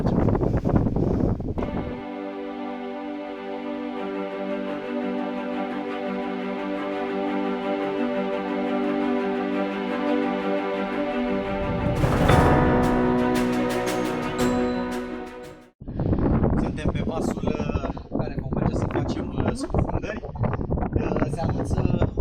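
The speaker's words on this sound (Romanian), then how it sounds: "Nu știu dacă o să se audă prea bine, pentru că bate vântul pe ponton" Wind gusting across a boat pontoon at a seaside tour stop near Hurghada, Egypt, a steady broad buffeting rush under a running engine hum, turning harsher and more broken in the final seconds.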